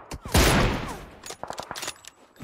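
Gunfire in PUBG Mobile: a loud close burst of shots followed by a quick series of sharper, lighter cracks in rapid succession over a short span.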